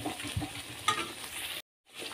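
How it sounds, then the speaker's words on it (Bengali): Poppy-seed and cashew-raisin paste sautés in a pan, a soft low sizzle with faint stirring scrapes, then a brief cut to silence before the quiet frying resumes. "2 থেকে 3 মিনিট এটাকে কষাতে হবে ভালো করে।"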